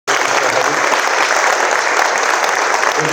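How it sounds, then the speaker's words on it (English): Sustained, dense applause from an audience at a foundation gathering honoring a long-serving member, loud and steady throughout without a break. "Big round of applause."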